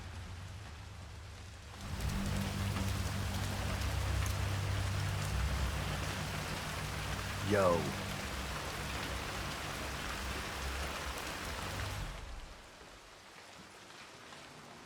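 Steady rain falling in a Hitman 3 game scene, a constant hiss of drops that starts abruptly, holds evenly with a brief tonal sweep in the middle, then cuts out.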